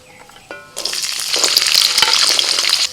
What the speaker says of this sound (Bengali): অল্প সবজি বলে আমি একসাথে ভাজছি এটাকে